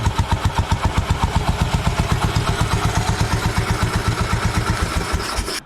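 A Royal Enfield motorcycle engine fires and runs with a steady, loud, close thumping beat for several seconds before cutting off abruptly.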